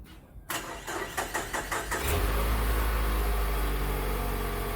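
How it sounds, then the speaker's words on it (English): A Mazda CX-5 engine with a weak battery cranks in a series of slow, labored turns, about seven strained pulses, before catching and settling into a steady idle. "when she starts the car, this is what it sounds like."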